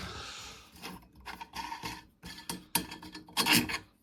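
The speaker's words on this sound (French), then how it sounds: "Donc on va tout dévisser. Enfin, on va dévisser un côté déjà." Knob screws being backed out through a tube on a homemade 360-degree camera rig, giving close, scraping, rasping turns in uneven bursts with short gaps between them and no talk.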